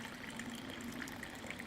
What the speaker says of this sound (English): I'm going to hold this bit and then pour. So I've got nice boiling water